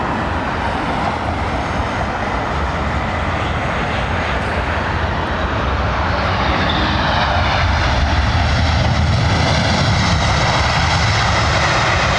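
A Boeing 787 at London Heathrow Airport produces a loud, continuous jet roar that fills the whole stretch and swells slightly toward the end.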